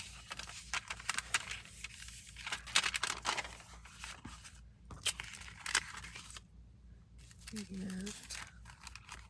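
Scissors snipping the bottom off a paper window envelope, with crinkly, rustling paper sounds in short bursts close by, mixed with a person talking.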